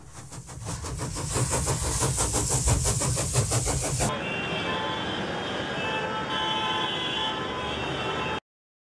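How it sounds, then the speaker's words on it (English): A passing train sounds for several seconds with fast rhythmic clattering, then gives way to a steady, dense rumble and hum before cutting off abruptly, with no voices. "Train."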